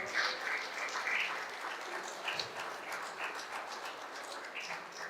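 Audience applause for a chairman at an entrepreneurship lecture series event, a steady wash of clapping from a crowd that stays fairly even for about five seconds with no talk over it.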